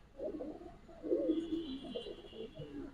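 Soft, low cooing of pigeons close by at a large pigeon farm, a few rolling coos in succession over quiet background.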